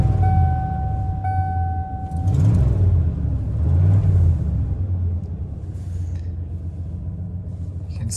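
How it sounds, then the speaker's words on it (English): A 1994 Ford F250 XLT HD cranks and catches, then settles into a steady, loud low rumbling idle with a couple of brief swells in engine sound, heard up close with no talking. "we're gonna start the 94 F250"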